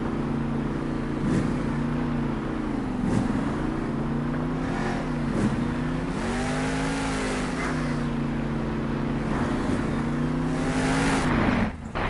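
A Monster Jam monster truck, Megalodon, roars continuously through a wheelie at a show in Anaheim, its loud engine droning and revving with rising and falling pitch, close and dominant throughout, with no clear talk over it.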